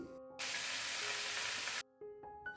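Loud, steady sizzle of fish frying in a pan bursts in for about a second and a half, then cuts off, leaving quieter clinks and kitchen noise around it.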